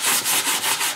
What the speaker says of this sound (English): I'm just going to take the sanding block, and I'm just going to go over it very lightly